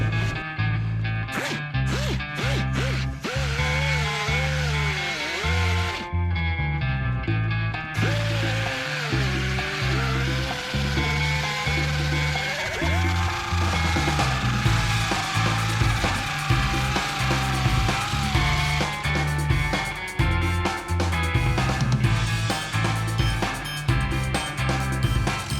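A ratchet works steadily, tightening bolts on the boards of a 1957 Chris Craft boat under restoration, with a continuous, close run of rhythmic clicking and mechanical rattling.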